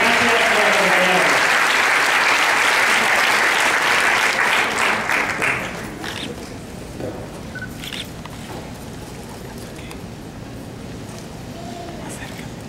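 Loud applause from a crowd, strong at first and then fading to a lighter patter of scattered clapping as it continues.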